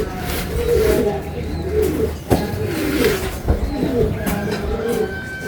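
Racing pigeons returning home in Tuguegarao coo repeatedly in soft, rolling, overlapping calls close by, with a couple of sharp knocks and faint talk in the background.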